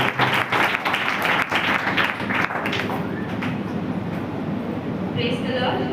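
Clapping from an audience at a church gathering, sharp irregular hand claps at first that fade into a softer murmur as voices talk over it.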